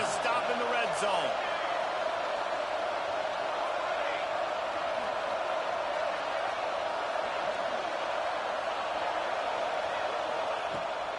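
Football stadium crowd roaring steadily for the home defense during a red-zone stand, a broad sustained cheer with a few whoops early on.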